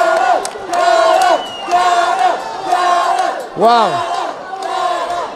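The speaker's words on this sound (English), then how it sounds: "The crowd so loud behind Callum here." Loud, roaring crowd at a fight event, sustained cheering and chanting in swelling waves with a few whoops, continuous throughout, with a commentator's brief exclamation mixed in.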